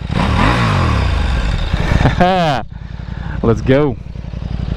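A KTM RC8R motorcycle with no exhaust fitted fires up and settles into a loud, raw idle, with a couple of sharp throttle blips partway through, while someone talks over it.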